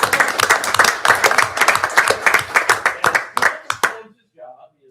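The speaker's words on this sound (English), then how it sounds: "Let's give him a round of applause." A small audience at a Jonesborough Board of Mayor and Aldermen meeting claps for a town employee, a few dozen distinct, rhythmic hand claps from a modest group that thin out and stop after about four seconds.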